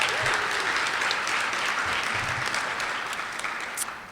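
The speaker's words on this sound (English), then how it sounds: "A round of applause for the parents." A crowd at a high school National Honor Society induction ceremony claps for the parents in sustained, dense applause that fades gently toward the end.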